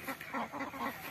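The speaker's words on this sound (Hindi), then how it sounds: "देखें कैसे बतखें एंजॉय कर रही हैं।" Small ducks on a fish farm pond quack repeatedly in a steady, rhythmic series of calls, fairly close, with no talking.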